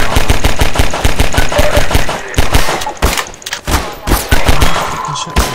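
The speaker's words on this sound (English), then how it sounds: "I've already shot him, I think. He probably shot me." Loud bursts of rapid automatic gunfire in the video game Half-Life 2, with dense repeated shots and a few pauses between volleys, up close and dominating.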